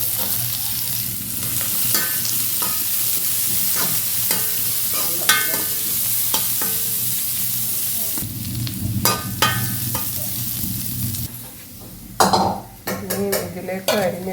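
Onion and curry leaves fry in a pan for spinach thoran, with a steady sizzle under frequent scraping stirs and clinks of utensil on metal, growing busier and louder toward the end.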